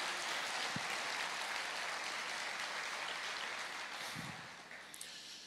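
Congregation applauding during a church sermon, a broad, distant wash of clapping that thins slightly toward the end, with a couple of faint thumps.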